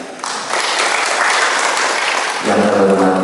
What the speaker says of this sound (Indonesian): Tepuk tangan bagi saya.